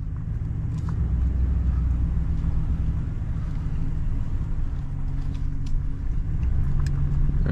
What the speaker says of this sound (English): Got the vehicle in drive, let's pull forward.